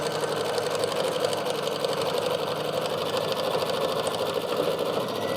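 Embroidery machine stitching a tack-down line on a Kimberbell mug rug project, a steady, fast, continuous mechanical whirring hum with rapid needle pulses, close and alone with no talking.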